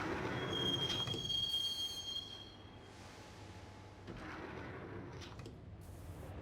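Train riding in the video game Max Payne, a rumbling rail car rolling along with a high steady wheel squeal in the first seconds that fades, then a continuous loud clattering ride with no voices.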